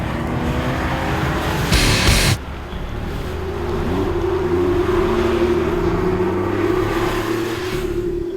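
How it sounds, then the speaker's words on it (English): A loud Porsche 996 911 GT3 RS flat-six engine, 210 brake horsepower, revs and accelerates, its pitch rising steadily, with a brief burst of rushing noise early on. "The flat six engine produces 210 brake horsepower"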